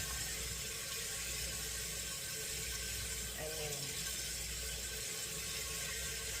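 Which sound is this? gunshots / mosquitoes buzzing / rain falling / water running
water running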